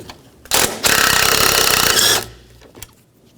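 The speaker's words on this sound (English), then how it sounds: "That's a 13mm socket. Let's remove this one." A 13mm socket ratchet spins a strut bolt loose on a Volvo S60, a loud, fast, even clicking run lasting over a second, with a short burst and a few faint clicks around it.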